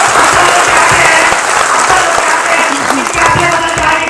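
An audience at a motivational talk applauds loudly and continuously, dense clapping filling the hall without a break.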